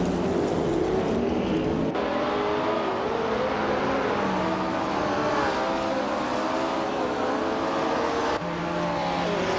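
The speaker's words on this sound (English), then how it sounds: "Their car is a 1968 Porsche 909 Bergspider" A 1968 Porsche 909 Bergspider race car drives steadily in a race, its loud engine a continuous drone with gently wavering pitch that holds for the whole stretch, with no voices.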